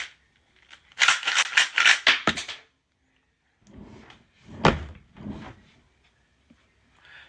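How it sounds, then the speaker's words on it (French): Household drawers are rummaged and emptied, giving a quick cluster of rattling, clattering knocks followed by a pause and then scattered scrapes and one sharp thump, fairly close and with no talking. "on arrête de vider les tiroirs"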